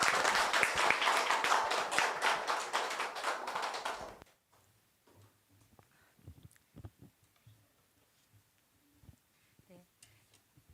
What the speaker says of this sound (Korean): 격려의 박수를 한번 보내주시기 바랍니다.